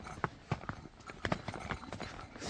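Horse hooves clip-clop in a steady walking rhythm at close range, on a snowy mountain trail in Kashmir. Each strike is distinct and moderately loud, with faint background noise and no talking.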